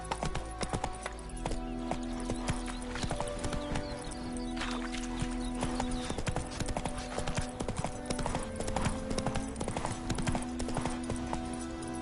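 Horse hooves clop at a steady gallop in The Witcher video game, loud and close, with a quick rhythmic beat and a faint tonal hum beneath.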